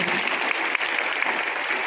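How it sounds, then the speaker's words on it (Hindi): Hearty applause greets an additional superintendent of police at a school classroom event in Halpura, a steady dense wash of clapping sustained throughout with no pauses. "आप जोरदार तालियों से स्वागत भी करें,"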